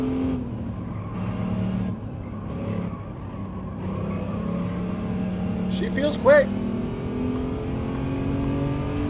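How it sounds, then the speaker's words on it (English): An Audi TT Quattro Coupe engine hums steadily while cornering in the racing video game Gran Turismo 7, with a brief tire squeal near the end, all under a player talking. "Got the TT Quattro Coupe."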